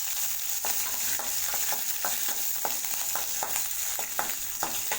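Sliced green chillies and dried red chillies sauté in a pan, giving a soft, steady sizzle with light, regular clicks of stirring, fairly faint and heard alone.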